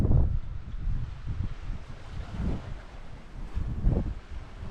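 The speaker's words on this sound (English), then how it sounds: "The wind's just gone up into double numbers" Wind gusting around a sailing boat under way at about 5.5 knots off Norway, a low rushing roar that swells and eases in waves and buffets the microphone, with no voices.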